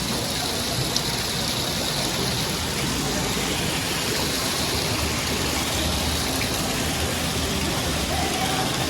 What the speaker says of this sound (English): There's a water fountain.